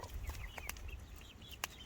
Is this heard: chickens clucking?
yes